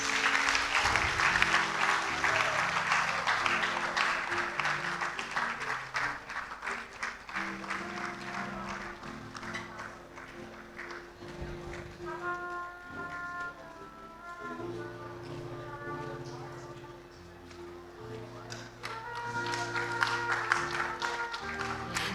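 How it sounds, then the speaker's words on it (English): An audience at a university inaugural lecture gives sustained applause, a steady crowd clapping that runs the whole length with music and tones playing underneath. "Let's welcome them with a round of applause"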